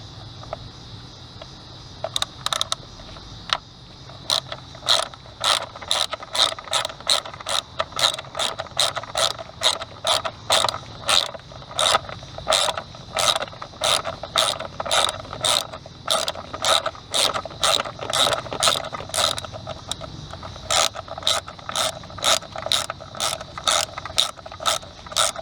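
A ratchet fitted with a T30 bit clicks rapidly and steadily, loosening intake manifold bolts on a Ford Explorer 4.0L SOHC engine, with brief pauses between runs of close, crisp pawl ticks.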